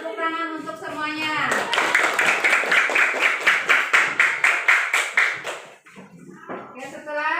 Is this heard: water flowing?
no